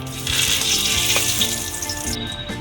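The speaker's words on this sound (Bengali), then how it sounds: "এবার 2টো তেজপাতা এই গরম তেলে দিয়ে দিলাম।" Bay leaves hit hot mustard oil in a pan and set off a loud, steady sizzle that holds for a couple of seconds and then eases slightly, with no voices.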